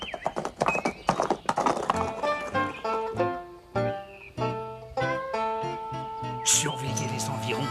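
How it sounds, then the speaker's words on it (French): Cartoon horse neighing and clip-clopping in a Lucky Luke animated Western, the hoof sounds and whinny set over a busy orchestral score of tonal melodic lines that runs throughout. "Tiens, il s'est monté à cheval maintenant."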